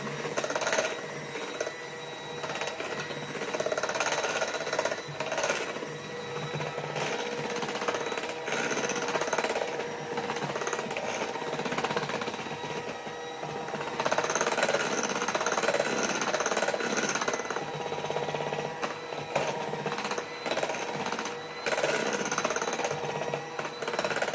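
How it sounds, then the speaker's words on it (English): Unleavened bread dough being mixed, likely by machine, giving a continuous rapid rattling, buzzing whir that stays steady and fairly loud throughout, with no talking. "And then you mix that up real good."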